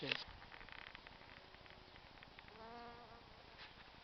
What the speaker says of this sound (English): that's actually a honeybee